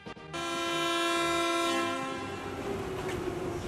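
An electric locomotive, the Red Flag 5437, sounds a long, loud whistle as it pulls out of Samjiyon Youth Station with wagons in tow, the steady blast carrying over the rumble of the departing train.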